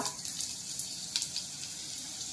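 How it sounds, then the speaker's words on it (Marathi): Sliced onion frying in hot oil in a pan, a soft continuous sizzle with small crackling pops scattered throughout, heard alone and close. "हा कांदा आपण व्यवस्थित परतून घेऊया।"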